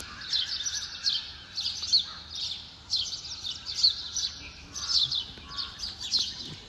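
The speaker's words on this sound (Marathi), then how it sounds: "हे सगळे पक्षी ओरडतात आहे" Birds chirp at dawn on the Konkan stretch of the Mumbai-Goa highway, sending out repeated bursts of high, fairly close tweets in an uneven rhythm over a quiet background, with no talk.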